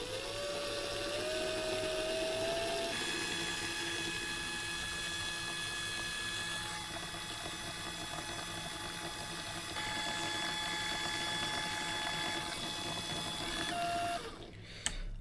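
Quiet, steady mechanical whirring and clicking of a hand-cranked drill turning as it winds coil wire, with faint tonal squeals, ending in a short burst of clatter.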